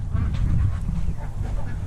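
Geese and ducks honking and quacking together nearby, a busy overlapping chorus of calls over a low rumble.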